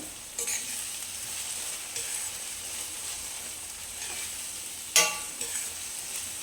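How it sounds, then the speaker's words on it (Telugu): Spinach and onion-chilli fry stirred in a hot pan: steady sizzle with scraping spatula strokes, a sharper clatter near the end, no voices. "ఇలా మధ్య మధ్యలో కలుపుతూ ఉండాలండి"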